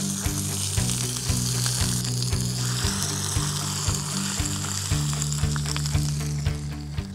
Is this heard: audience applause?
no